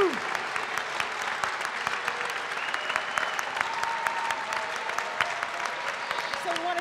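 A banquet-hall crowd at the Buffalo Broadcasters Association Hall of Fame induction ceremony applauds its inductees: sustained, even clapping from many hands with a few scattered voices mixed in.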